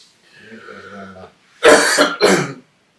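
A single man coughs twice in quick succession, loud and close, in a quiet studio political interview, after a short stretch of faint voice.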